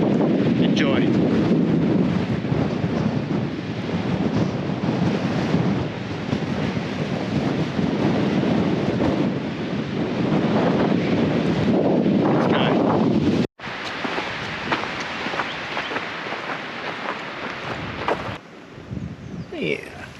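Strong wind buffets the microphone at a lookout in the Flinders Ranges, a loud continuous rumbling roar that fluctuates throughout, briefly cutting out once before continuing slightly quieter.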